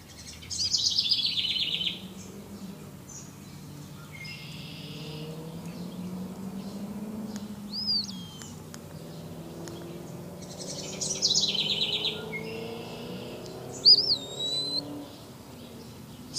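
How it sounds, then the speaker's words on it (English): An eastern wood pewee sings in a backyard: a few thin, slurred whistled phrases spaced several seconds apart, fairly faint against a quiet, low-humming background. "And that's called the eastern wood pewee."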